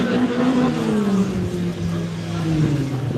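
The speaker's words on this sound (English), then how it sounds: "I reckon that was the sound of the 1055 Adrian Gardner trying to get the car in again." A race car engine drones loudly and steadily with a slowly falling pitch, probably car 1055 running at the Loveday 400 motorsport meeting, close and continuous throughout.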